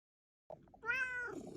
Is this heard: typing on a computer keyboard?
no